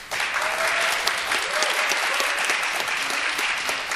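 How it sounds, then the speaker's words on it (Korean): Steady, dense audience applause at a Korean baseball defensive-award ceremony honoring eight winners, a loud, even wash of clapping that holds throughout with little else over it. "수상자 8명께 다시 한번 큰 박수 부탁드립니다."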